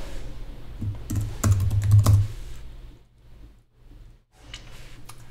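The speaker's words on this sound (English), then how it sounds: "Let's type it in" Typing on a computer keyboard to add a command to an Ableton Live options file, heard as a close flurry of clicking keystrokes that stops, followed by a few faint taps.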